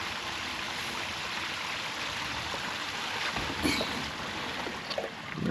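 Gray water rushes steadily through an off-grid RV septic dump in the desert, a continuous close splashing flow with a brief gurgle near the end and no talking.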